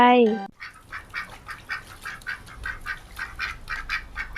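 A duck quacks repeatedly in a quick, steady series of short nasal calls, close and clear, after a brief opening sound.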